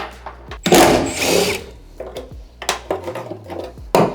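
A power tool, likely an impact driver, whirs in short bursts while undoing bolts on a van being stripped, with a loud main burst early followed by briefer pulses and clicks nearby.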